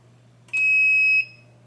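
A single loud electronic timer beep, from a DTF transfer press onto a toilet seat, steady and high-pitched, lasts just over half a second against a faint low hum.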